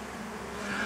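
A honey bee buzzes close inside the ear, a continuous droning hum that grows slightly louder and higher toward the end of the brief moment.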